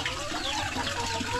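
Loose farmyard chickens cluck in a short, steady, mid-level stream of calls, with no talking.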